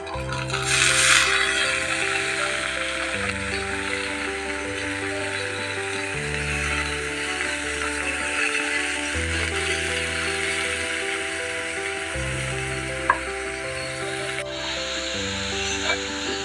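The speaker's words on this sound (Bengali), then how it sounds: "এখন আমি শাকগুলো ঢেলে দিব বাগার শাক ভাজি, যেটা সেদ্ধ করে রেখেছি লাউ শাক" Boiled bottle gourd greens fry in a pan with onion, garlic and green chili, giving a continuous sizzle with soft stirring scrapes and one sharp click near the end. No one speaks.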